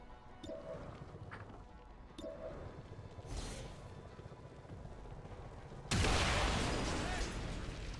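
A loud blast from the turn-based strategy game XCOM 2 (Long War of the Chosen mod) breaks in abruptly and holds as a broad roaring burst. Softer game thuds come before it.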